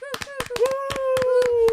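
An audience in a studio claps in a quick, regular rhythm of sharp, distinct hand claps, close by, with a sustained vocal tone running underneath.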